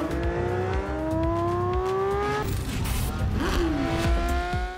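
A Porsche 911 GT3 with a high-revving naturally aspirated engine of 9,000 rpm and 510 horsepower screams up through the gears on a racetrack, rising tone climbing, breaking off at a shift, then snarling again close by.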